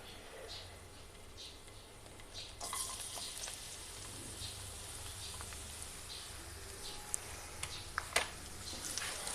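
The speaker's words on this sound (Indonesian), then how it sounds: "kita tumis bawang putihnya guys" Garlic sautéing in hot oil in a pan gives a steady, soft sizzle with faint crackles, fairly quiet throughout and brightening slightly partway through.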